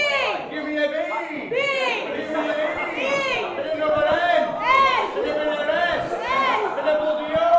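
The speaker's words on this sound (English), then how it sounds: "Sorry if you can hear the crowd over us." Crowd chatter fills a sports bar during a pool money match, many overlapping voices murmuring and calling out at close range in a steady, busy hubbub.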